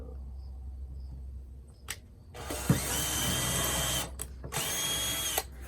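A power drill bores pilot holes into old barn wood, one short blip followed by two longer sustained high-speed whirs with brief stops between them, close and steady, with no voices.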